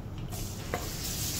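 Garlic hits hot oil in a pan for shakshuka, giving a soft, steady sizzle up close with a brief clink partway through.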